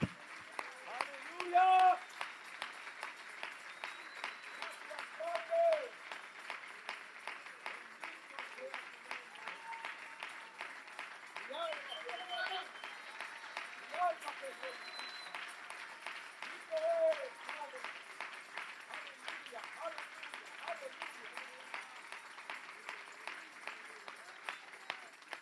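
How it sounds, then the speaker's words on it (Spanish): Congregation applauding inside a church during a worship service, a steady wash of clapping with scattered shouts and voices over the whole stretch, moderately distant. "Ese aplauso fuerte a Jesús"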